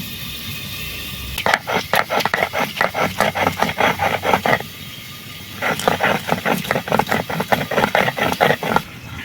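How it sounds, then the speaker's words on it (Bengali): Green and dry chillies are ground on a grinding stone, making rhythmic rasping strokes in two long bursts separated by a short pause, close and loud with no talking. "কাঁচা লঙ্কা এবং শুকনো লঙ্কা বাটবো"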